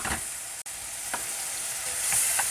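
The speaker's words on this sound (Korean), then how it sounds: "고기가 불맛도 나고 제가 이렇게 살살살살 볶아줬습니다" Ground meat stir-fries in a hot wok for mapo tofu, with a close, dense sizzle broken by soft scraping stirs and a sudden brief gap, and no voices.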